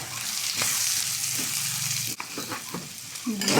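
Onion and ginger sizzle and fry in a pan, a steady close crackle with occasional stirring scrapes throughout.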